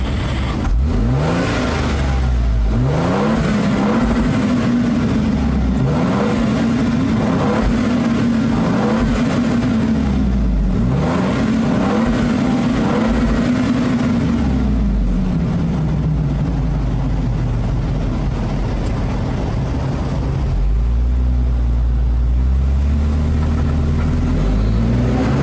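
A Lexus GX550 SUV engine revs and accelerates loudly and steadily on a highway, its deep tone rising and falling through repeated gear changes, close and continuous throughout.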